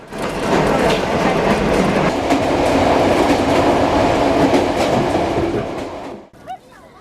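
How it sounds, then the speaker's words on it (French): Continuous rumble and rattle from inside a hard-seat passenger train car bound for Beijing, with wheel clatter and steady loud rolling noise, fading abruptly near the end to quieter ambience. "nous embarquons dans le train pour Pékin"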